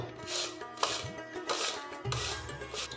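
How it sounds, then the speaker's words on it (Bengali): Raw mango rasps back and forth across the coarse side of a hand grater in steady, rhythmic scraping strokes, about five close, loud passes. "গ্রেটারের যে মোটা দিকটা এই মোটা দিকটা দিয়ে গ্রেট করব"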